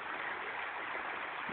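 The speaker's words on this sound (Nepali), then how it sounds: "कल कल कल कल बगिरहेको।" Water flows and babbles in a continuous, even rush, faint and steady throughout with no voices.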